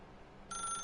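A telephone in The Stanley Parable video game starts ringing midway, a bright electronic bell tone coming in over a faint low hum, brief and fairly quiet.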